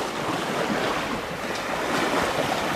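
ETAP 32S sailboat underway at over 5 knots off Lastovo, Croatia, with steady broadband rush of waves and water along the hull mixed with wind noise, continuous and fairly loud throughout.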